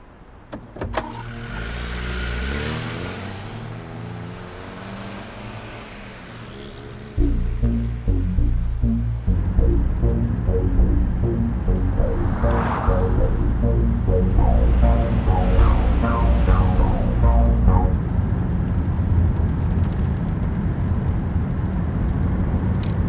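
A car engine runs steadily while driving, with a low rumble throughout that swells louder partway through, punctuated by clicking and rattling from inside the cabin.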